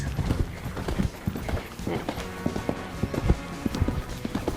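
A show-jumping horse canters with rhythmic, clear hoof beats thudding close by on arena footing, steady repeated strides throughout, with a faint voice in the background.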